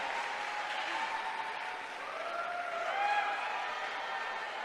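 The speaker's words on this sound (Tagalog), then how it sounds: "Ang anunsyong ito, sinalubong ng palakpakan at hiyawan mula sa mga mag-aaral at guro ng kolehiyo." Students and teachers at a college applaud and cheer after an announcement, a faint, distant wash of clapping and crowd noise lasting about five seconds and swelling slightly near the end.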